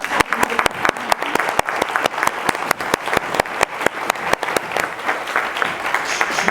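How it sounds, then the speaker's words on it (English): An audience at a lecture gives a sustained round of applause, loud, dense clapping with sharp individual claps standing out, continuing steadily throughout. "let's give you a round of applause."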